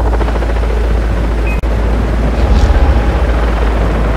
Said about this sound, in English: Dude! Choppers!